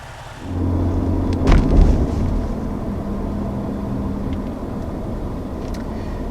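A 2020 Ford F-150 Raptor with its 10-speed automatic drives along, a steady low engine drone swelling briefly as it shifts, then settling back to a constant rumble with road noise, no voices.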